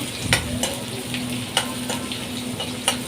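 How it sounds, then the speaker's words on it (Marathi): Onions fry in a pan until reddish, giving a continuous close sizzle with a low steady hum beneath, punctuated by a few crisp spatula taps and scrapes at intervals; no talking. "कांदा छान परतून घ्यायचा"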